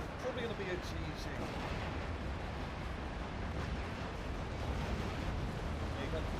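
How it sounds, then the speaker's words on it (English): Cannon fire in the real-time strategy game Act of Aggression, a steady dense roar of overlapping artillery blasts and battle noise at constant loudness with no clear breaks. "the cannons just eat them up"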